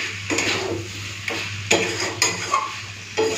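Mutton pieces stirred and sautéed in a pot for mutton curry with papaya and potato, a steady sizzle under repeated scraping and clattering strokes of a spoon against the pot, close and moderately loud.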